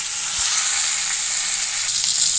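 Potatoes fry in a pan with cumin powder, tomato and chilli, giving a loud, continuous hiss and crackle with faint stirring and no voices.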